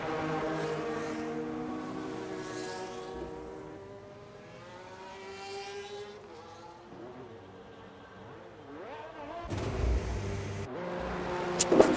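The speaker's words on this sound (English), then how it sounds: "we've got a few cars just peeling out pits" Race cars peeling out of the pits in a racing video game at a Mexico circuit, engines revving and whining up through the gears at moderate distance, one rising pass near the end.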